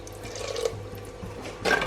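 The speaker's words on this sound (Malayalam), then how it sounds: "പാത്രം കഴുകി ലേശം വെള്ളം ഒഴിക്കാം." Water runs and splashes briefly into a vessel, quiet at first then a louder pour toward the end, close by.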